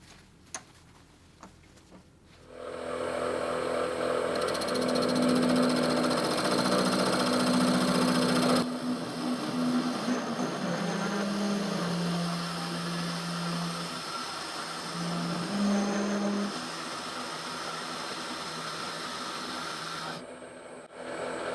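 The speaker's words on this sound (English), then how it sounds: "once I start drilling, it's going to get wet and messy" A rotary drill whines steadily after a quiet start, its pitch dipping and rising as it bites into cast resin, then fading near the end.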